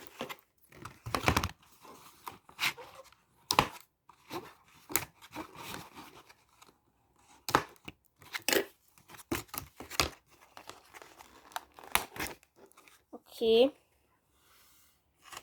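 Sylvanian Families toy packaging is opened with rustles, crinkles and tearing sounds that come in short irregular bursts under frequent talking, plus a brief pitched squeak near the end.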